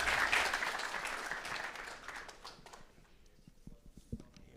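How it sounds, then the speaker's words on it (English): Applause from a conference audience for a speaker at a live gut health session, loud at first and then thinning and fading into scattered claps. "Big round of applause for Anna."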